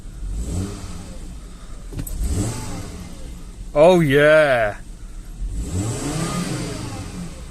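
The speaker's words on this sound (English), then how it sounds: "Shouldn't really rev it on a cold engine." A car engine, still cold, is revved in one sharp rising and falling burst between steadier idling, close and loud, with someone speaking around it.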